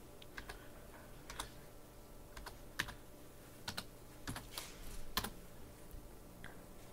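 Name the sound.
typing a password on a computer keyboard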